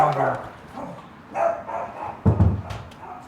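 A dog barks a few times in short bursts, mixed in with people chatting nearby.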